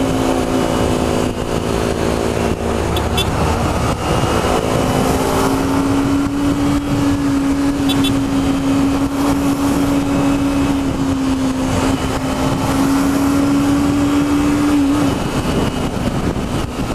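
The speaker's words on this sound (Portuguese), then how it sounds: "O barulho do motor da Ninja é muito legal, cara." A Kawasaki Ninja motorcycle with no exhaust fitted holds a loud, steady high-rpm engine drone that climbs slightly and stays sustained for most of the stretch before easing off near the end.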